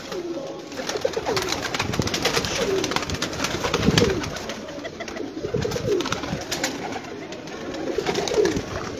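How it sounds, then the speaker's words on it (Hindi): Pigeons in a large loft flock of roughly 150 to 200 birds give low, repeated cooing calls that rise and fall steadily over a constant murmur of background bird noise, with no voices over them. "कबूतर देखो माशाल्लाह मजा आएगा कबूतर देखने का भरावां नूं।"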